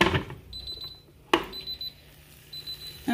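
Three short bursts of high electronic beeping from an Instant Pot with an air fryer lid, spaced about a second apart, with a sharp clatter and handling noise between them.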